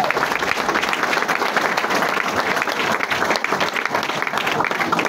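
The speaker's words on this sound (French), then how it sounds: "Applaudissez pour la première dame." An audience at a gathering of Congolese comedians gives the first lady a round of applause, with dense, continuous clapping that stays loud and even for the full five seconds.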